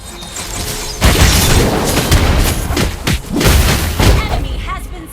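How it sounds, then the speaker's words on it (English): A booming explosion as a turret is destroyed in the mobile game Mobile Legends: Bang Bang, with loud bursts and heavy impacts layered over game effects and an announcer-style voice. "Our turret has been destroyed."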